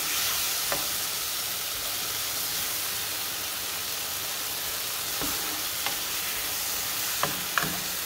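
Tomato sofrito frying in a pan for Mexican beef broth, a dense, steady sizzle with a few soft clinks of stirring scattered through.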